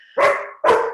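A dog barks twice in the background, two loud, close, sharp barks about half a second apart with nothing else around them.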